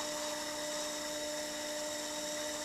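Clay being trimmed on a spinning pottery wheel while a small tumbler cup is made: a steady whirring drone with a scraping edge, constant and close, and no voices.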